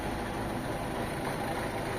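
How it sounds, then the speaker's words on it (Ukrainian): A tractor pulling a water tank runs steadily at a distance, its low engine drone holding constant and unbroken with no voices. "з бочечкою тракторець поливав"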